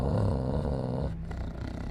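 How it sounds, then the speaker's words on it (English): A low, rumbling dog growl held for about a second, then fading into a softer, rougher rumble, close and alone in a quiet room. "our dog started growling"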